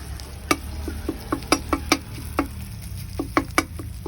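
Southern Thai curry paste frying in a pan over low heat, a soft bed of sizzling broken by irregular sharp pops and spits, close up with no talking.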